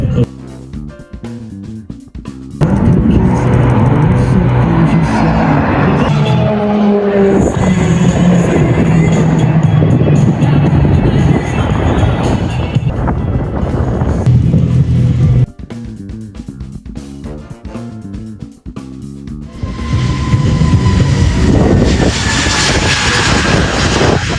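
A military jet passes at the Avalon airshow in Australia, a loud roaring rush that builds, holds, briefly drops away, then returns with a harsh high whine.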